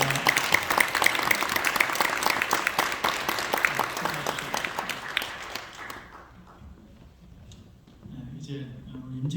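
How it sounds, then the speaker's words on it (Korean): Congregation applause at a church presbytery assembly after ordinations, steady clapping for about six seconds that dies away, followed by quieter room sound and a voice speaking. "다시 한번 인사할 때 크게 격려의 박수 주시면 감사하겠습니다."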